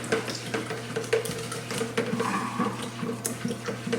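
Prickly pear lemonade being stirred in a container, with watery swishing and light clinks in an uneven rhythm, close and moderately quiet.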